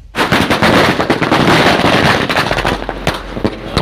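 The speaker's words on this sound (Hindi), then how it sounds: "अबू आसिम आजमी का ज़बरदस्त आतिशबाजी करते हुए शानदार इस्तकबाल किया।" Rapid, loud bursts of firecrackers and fireworks crackle almost continuously at an outdoor welcome procession for a political leader's convoy in Naigaon, Nanded, with scattered sharper bangs toward the end.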